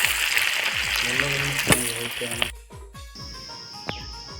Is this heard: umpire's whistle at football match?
no